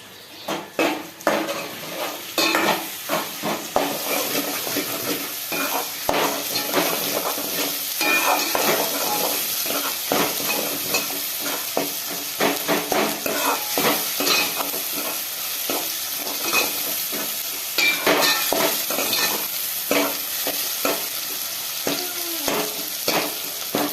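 Ginger garlic paste, turmeric and tomato frying in a pan for fish curry, with a steady sizzle broken by frequent scraping and clinking of a spoon stirring against the metal pot, close and fairly loud.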